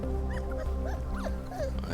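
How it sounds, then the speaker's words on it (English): Game audio from Tales of the Neon Sea, with sounds that may be a dog's barks or whimpers rising over a steady, loud musical drone and low rumble. Several short, pitched calls are scattered across the stretch of audio. "I hear a dog barking."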